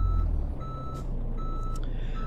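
A heavy Kenworth W900B truck engine in Euro Truck Simulator 2 rumbles steadily up close, with high electronic reversing beeps sounding in short repeated bursts over the drone.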